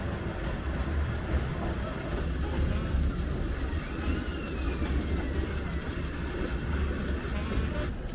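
Steady rumbling of a moving train near London, a continuous low roar with rattling and faint high squeals, heard from on board.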